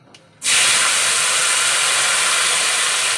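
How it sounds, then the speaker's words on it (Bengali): Potatoes and onions dropped into hot oil for a fish curry meal, a faint clatter then a sudden loud, steady hiss of frying that fills the rest, no voices. "আলু পেঁয়াজ একসাথে কেটে নিয়েছি, ছেড়ে দিলাম আমি তেলে, গরম তেলে দিয়ে এবার এটাকে ভাজা ভাজা করবো।"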